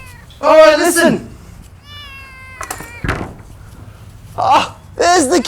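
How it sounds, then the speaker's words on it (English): A kitten stuck up a tree mews loudly several times, high wavering cries spaced across the stretch, close by, with a clunk of wood or a door in between and no talk. "Ah, there's the kitten!"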